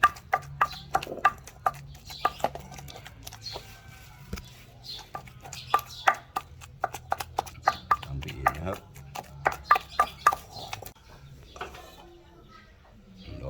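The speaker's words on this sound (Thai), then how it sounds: "ตำอยู่นะครับไปเรื่อยๆนะครับ" Ingredients are pounded in a mortar with repeated sharp, close thuds in an uneven but steady rhythm, while someone talks over the pounding and birds coo faintly in the background.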